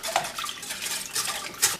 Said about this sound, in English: Now just use a whisk and whisk that all up really good